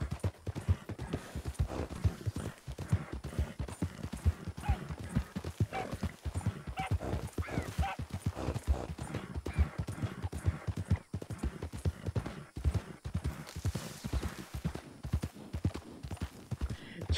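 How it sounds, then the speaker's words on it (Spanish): Horse hooves clip-clopping in the RedM Western roleplay game, a fast, continuous rhythm of close hoofbeats with occasional whinnies, loud and steady throughout. "Porque llevo una hora domando caballos."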